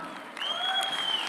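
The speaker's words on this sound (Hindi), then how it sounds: "एक बार जोरदार तालियां हो जाए।" A short burst of audience clapping, fairly soft and steady, with a faint tonal ring over it.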